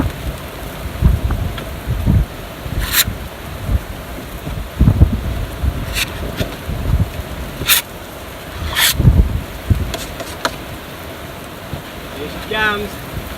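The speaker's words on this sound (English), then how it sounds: "There's a really big gust coming through." A strong gust sweeps across an open beach, a broad roaring rush of wind buffeting the microphone in repeated low surges over about thirteen seconds.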